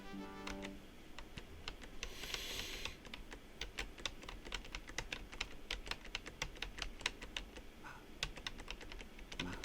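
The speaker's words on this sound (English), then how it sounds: "I'm sure you hear the keys." Fingers type rapidly on a computer keyboard, a steady stream of crisp, close key clicks in irregular bursts, with a brief tone at the start and faint background noise.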